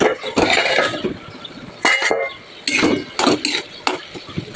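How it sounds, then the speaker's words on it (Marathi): A metal lid goes onto a cooking pot of kantola (spiny gourd) curry, giving several sharp clinks and clatters in short bursts, close and fairly loud. "आपण झाकण टाकायचं."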